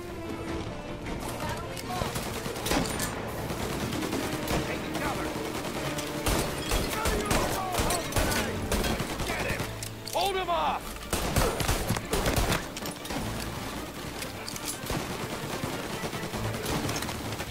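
Tommy gun fire in Mafia Definitive Edition, dense ongoing bursts of shots and a busy game mix throughout, with voices talking over the shooting.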